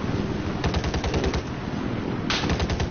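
Rapid bursts of automatic gunfire from a flood-zone video game match, two clusters of quick repeated shots over a steady ambient bed, loud and close with no talking.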